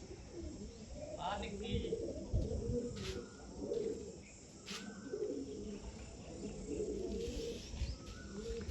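Pigeons coo softly in low, repeated murmurs while a person talks nearby, with faint chirps and insect buzz in the background.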